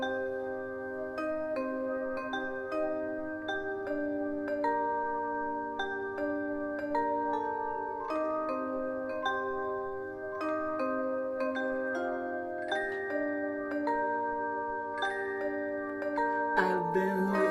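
A song, played live on a livestream: a soft, chiming instrumental in waltz time with sustained chords and bell-like notes over a low hum, quiet and continuous with no singing yet.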